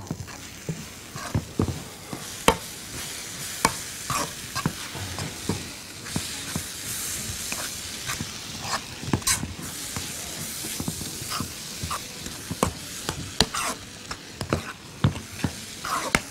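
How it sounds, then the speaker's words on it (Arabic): Food frying in a pan is stirred with repeated scraping strokes over a steady sizzle, a chicken, cheese and vegetable roll dish or pasta with sliced meat and onion cooking up close, with no talking. "نقلب"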